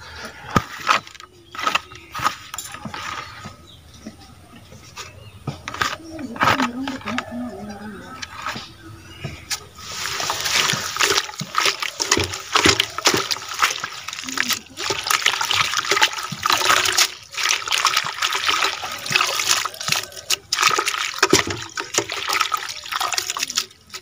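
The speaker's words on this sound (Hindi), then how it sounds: "ए सागटा को बाल्टी पानी रे भल भाव रे चकटी की धोई देबा" Water splashing and sloshing in a bucket as medicinal leafy greens are washed by hand for an Odia greens fry. It starts with gentle trickles and becomes steady, louder churning in the second half.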